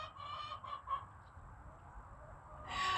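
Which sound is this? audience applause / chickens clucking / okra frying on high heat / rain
chickens clucking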